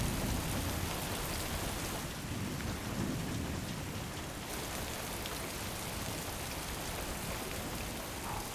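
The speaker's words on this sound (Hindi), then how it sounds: "बारिश।" Steady heavy rain pours throughout with rumbling thunder underneath, a dense continuous wash of sound at fairly even loudness, no voices present.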